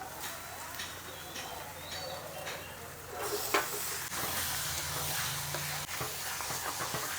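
Mutton sizzles in a pan of spiced masala as it is sautéed for kosha, with steady frying hiss and scraping stirs, a sharper clatter around the middle, and no talk.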